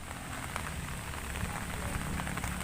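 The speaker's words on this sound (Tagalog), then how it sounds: "Panay-panay po ang ulan dito sa atin." Steady rain falls outdoors, a dense even patter of drops hitting surfaces that stays constant throughout, moderately loud with no voices.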